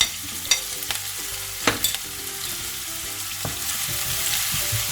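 Chopped ginger and garlic fry in hot oil for a Kerala-style fish molly, a steady loud sizzle broken by the clinks and scrapes of stirring.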